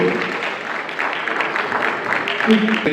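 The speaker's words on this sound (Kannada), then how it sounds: "ಅದಕ್ಕೊಂದು ದೊಡ್ಡ ಚಪ್ಪಾಳೆ" An audience at a Junior Idol UAE stage event in Dubai claps in a dense, steady burst, with voices mixed in.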